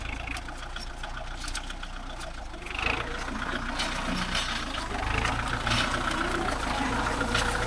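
A Kubota MU4501 power-steering tractor's engine rumbles steadily nearby while it brakes and turns in place, a continuous low drone with slight swells in loudness.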